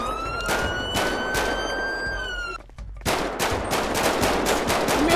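Rapid bursts of automatic gunfire hammer an armored car in GTA 5, with a sustained whining tone over the first volley, a brief lull, then a second dense string of loud, close shots.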